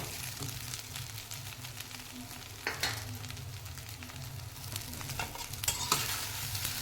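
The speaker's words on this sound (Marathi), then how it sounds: "मोठा गैस करूँ मी परतून घेते म्हणजे थोडीशी ते क्रिस्पी होती" Fenugreek muthiya dumplings stir-fried in a pan sizzle steadily, with a few sharper scrapes and clatters as they are tossed, close and fairly quiet with no talk.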